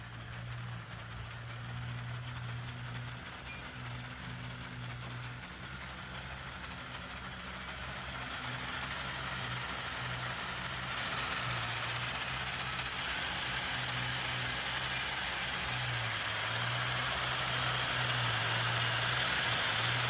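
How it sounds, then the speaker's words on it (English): Small electric motors driving the wheels of a motorized LEGO Technic Lamborghini Sián FKP 37, giving a steady whirring hum with some mechanical rattle that slowly grows louder over about twenty seconds. "Now I will give you a quick demonstration of how the motors move the wheels."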